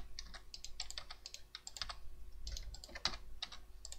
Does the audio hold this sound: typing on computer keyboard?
yes